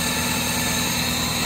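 A 1999 Toyota Camry with a 2.2L engine idles after a misfire repair, running with the air filter bypassed, giving a dense, even, continuous hum that stays loud and steady throughout with no speech.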